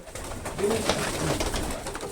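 Soft, low cooing from a pigeon in a breeder's loft, fairly faint against steady background noise.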